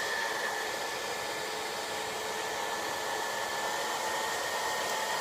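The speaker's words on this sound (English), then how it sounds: "So wait till you do the blow dryer trick after you do your top lashes." A blow dryer roars with a steady, close hiss as it is aimed at freshly applied lashes, running continuously without pause or voices.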